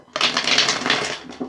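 Tarot cards are shuffled and handled close up in one quick, dense flurry of papery riffling lasting just over a second, followed by a single softer flick.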